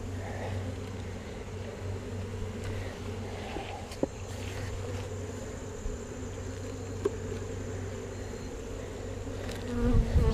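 Honey bees buzzing around an open hive during an inspection of brood frames, a steady close drone with a few brief knocks and handling sounds near the end.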